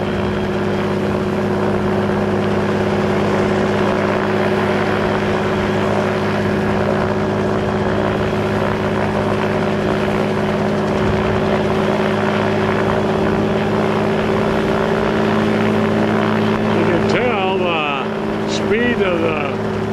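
A helicopter's rotor and engine running on the ground before takeoff, a loud steady drone with a constant hum, heard close throughout.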